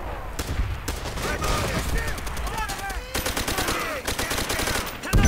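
Rapid machine gun fire in the World War II shooter Call of Duty: World at War, with dense overlapping bursts and ricochet-like whizzes that continue throughout, loud and close.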